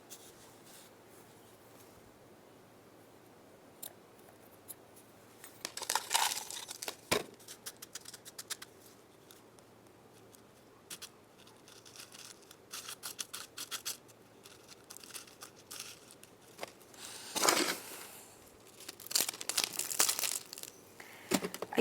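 Scissors snip through a long wick while hoyas are repotted, with crisp cuts amid crinkling and rustling handling noises, close and fairly quiet, with busier bursts toward the middle and end.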